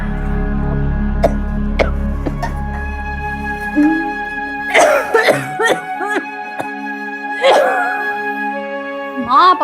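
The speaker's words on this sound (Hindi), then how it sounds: "कितनी खांसी हो रही है आपको?" A mother coughs repeatedly in a tense domestic drama scene, several sharp coughs scattered over sustained background music, with a few vocal sounds mixed in.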